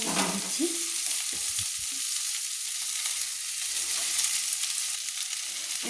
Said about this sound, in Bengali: কুচিয়ে রাখা রসুন দিয়ে দিলাম, দিয়ে ভালো করে নেড়ে নিলাম